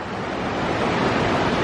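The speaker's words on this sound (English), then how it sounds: "that water's moving fast though" Fast-moving river water rushes loudly and steadily during a hiker's ford of a dangerous river on the Appalachian Trail, a continuous broadband roar close to the microphone with wind noise mixed in.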